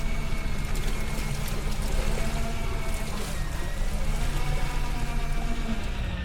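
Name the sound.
rain falling during deep sea fishing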